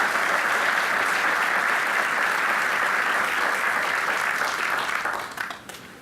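An audience at a 2016 FAA veterans recognition ceremony applauds to welcome General Sassville, a dense, steady wash of clapping that holds for several seconds before thinning and fading out at the end.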